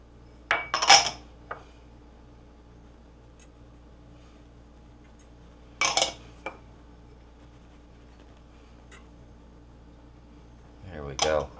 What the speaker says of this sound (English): Just use a whisk.